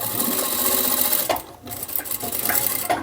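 Sewing machine stitching fabric for an ecobag with a seam guide set to one centimetre, a loud, steady rapid whir that briefly pauses midway before starting up again.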